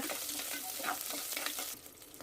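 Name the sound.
sautéing chopped small onions for sambar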